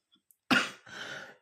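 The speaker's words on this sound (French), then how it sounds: "Excusez-moi, je tousse encore." A single close, rough cough from someone with the flu, a loud harsh burst followed by a breathy, raspy second push that trails off.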